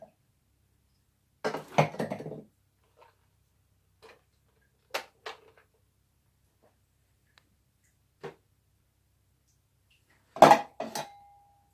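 A metal pan is handled and set down on a counter in a quiet kitchen while making unleavened bread, giving a few scattered clinks and clatters, with a louder cluster near the start and another ringing clank near the end.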